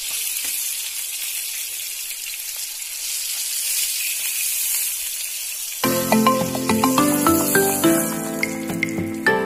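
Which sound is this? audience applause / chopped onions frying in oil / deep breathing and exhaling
chopped onions frying in oil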